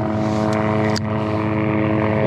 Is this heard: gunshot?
no